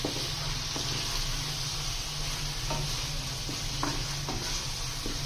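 White chicken karahi frying in a pan gives a steady, close sizzle with a faint hum beneath, punctuated by occasional light stirring scrapes throughout.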